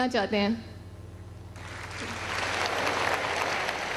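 An audience at a Prime Minister's youth laptop scheme launch ceremony bursts into sustained applause, a dense crowd-wide clapping that swells and holds steady after a brief announcer's voice opens the stretch.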